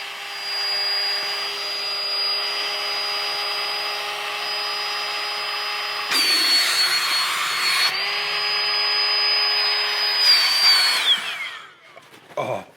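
An electric air mattress pump inflating a camping mattress runs as a steady, loud motor whine with a constant hum, its pitch shifting briefly midway, before cutting off near the end.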